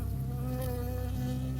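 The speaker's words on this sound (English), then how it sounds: "I got stung by a bee." A bee in Firewatch buzzes loudly and continuously right next to the listener, a steady droning hum with a slight wavering pitch.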